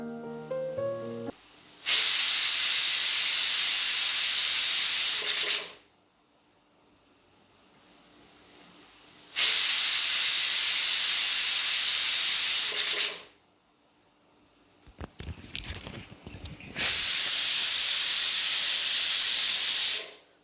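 A pressure cooker cooking sambar lets out three long, loud bursts of hissing steam whistle, each lasting several seconds and separated by quiet gaps, heard alone.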